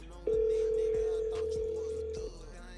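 Outgoing telephone call: a steady dial tone holds for about two seconds with faint clicks of dialing underneath, then cuts off, close and clear.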